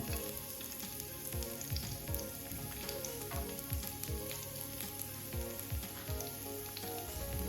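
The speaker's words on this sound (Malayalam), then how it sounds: "ഒരു ഫ്രൈ പാൻ എടുത്തിട്ട് അല്പം വെളിച്ചെണ്ണ ഒഴിച്ചിട്ട് രണ്ട് കഷ്ണം ക്രഷ് ചെയ്ത വെളുത്തുള്ളി ഇറക്കി കൊടുക്കുന്നു" Crushed garlic frying in coconut oil in a frying pan, a steady dense sizzle and crackle with scattered pops, close and continuous throughout with no talking.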